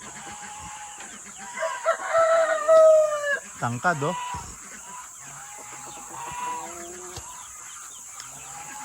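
A big rooster crows close by in a farmyard, one loud drawn-out call with a broken rising and falling tail, over steady insect buzz, with someone talking briefly.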